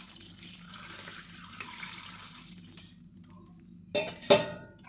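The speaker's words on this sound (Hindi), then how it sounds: "थोड़ा पानी डालेंगे" Water running from a kitchen tap into a cooking pot for boiling chow mein noodles, a steady splashing stream that stops, followed by a couple of clinks of the metal pot.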